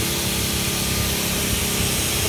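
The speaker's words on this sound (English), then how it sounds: "The pump is running more efficient" The pump from an AquaBanas Party Bana P10 combo set runs close by, a loud, steady motor drone with a constant hum and no pauses.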